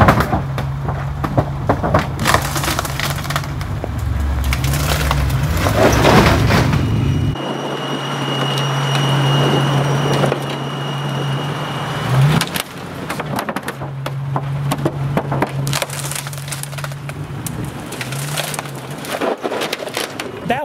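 Land Rover Defender climbing a ramp onto an Audi, a loud steady engine drone with creaking, cracking bursts as the ramp is crushed, grinding on for about twenty seconds with a brief shift in pitch midway.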